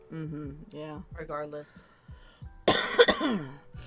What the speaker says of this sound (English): it was a cough